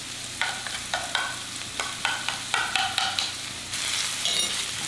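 Garlic frying in hot oil for beef pares, stirred in short bursts: a soft continuous sizzle broken by repeated scraping strokes of a utensil against the pan, ending in a brighter sizzle.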